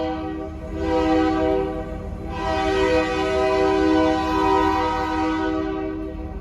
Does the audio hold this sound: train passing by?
yes